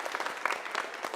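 An audience claps for a step team performance; the applause is dense and continuous across the short stretch, with a few sharper peaks of louder claps.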